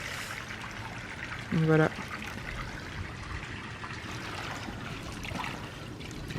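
Water from a garden pool being emptied trickles and dribbles onto grass in a steady, soft, continuous flow, with a brief spoken remark in French over it.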